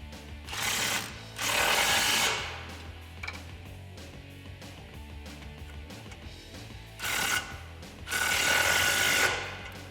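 Exhaust bracket bolts on a 2018-2020 Mustang GT with a Borla cat-back system are tightened with a 13mm socket and extension. Quick ratchet bursts come in loud, close pairs with quieter clicking between them.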